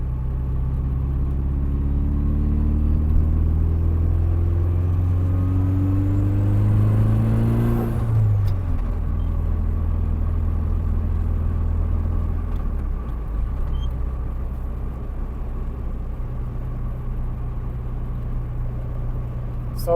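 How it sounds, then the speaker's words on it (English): A Saab 9-5 Aero with a hard-shifting gearbox revs up loudly from inside the cabin, the engine note climbing through a gear, then dropping abruptly at a forceful shift before settling into a steady, lower rumble. "with this gearbox you really have to make it shift really hard"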